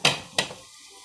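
Two quick metallic clanks of a pan being shaken and food flipped while cooking shrimp sauce, each followed by a short fading sizzle, close up and with no voices.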